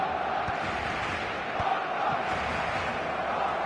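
Stadium crowd in an eFootball match roars as a steady, dense wash of cheering and chanting that fills the whole span without pause.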